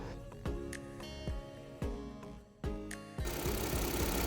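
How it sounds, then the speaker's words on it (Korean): A 2012 Hyundai Grandeur HG 3.0 LPG engine with 170,000 km idles with a rhythmic mechanical knocking, then swells into a louder, rougher roar near the end as it revs. "엔진 소리 좋습니다"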